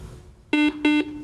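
Quiz show buzzer ending a toss-up round in a high school academic competition: two loud, harsh electronic buzzes, each about a sixth of a second, separated by a short gap, heard alone with no talking.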